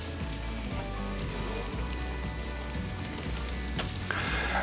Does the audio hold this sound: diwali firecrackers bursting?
no